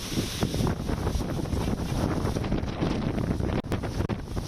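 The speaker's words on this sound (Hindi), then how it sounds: "नोएडा में भी तेज़ हवाएं चल रही हैं।" A strong wind roars and buffets the microphone during a dust storm in Noida, Delhi NCR. The loud, continuous gusting rumble has brief dips near the end, and no one speaks.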